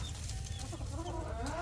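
Chickens cluck softly in a village yard, a continuous low murmur of hens over a dull background hum.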